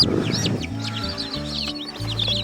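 A brood of week-old chicks keeps up a busy stream of high, overlapping cheeps at close range, over a low humming background.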